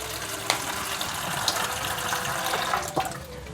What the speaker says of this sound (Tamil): ஒன் மினிட் தண்ணி பிடிச்சிக்கிறேன்